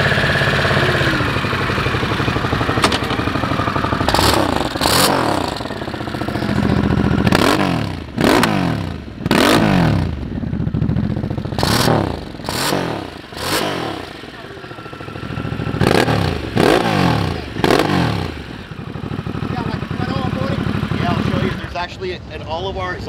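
A Harley-Davidson Sportster S idles, then its aftermarket exhaust barks through a series of sharp, loud revs in quick bursts, settling back to a rough idle between them.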